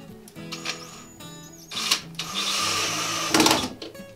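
Screws of 1¼ inch length driven in to secure a table during assembly, heard as a few whirring bursts from a power driver, the longest and loudest near the end, with no talk.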